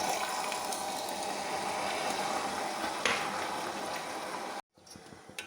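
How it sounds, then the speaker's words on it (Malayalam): Water poured into melted, caramelising sugar for a jackfruit cake, giving a continuous close bubbling and hissing that swells briefly near the end, then cuts out before a quieter tail. "പഞ്ചസാര ഉരുകി ഇതിലേക്ക് കുറച്ച് വെള്ളം ഒഴിക്കാം."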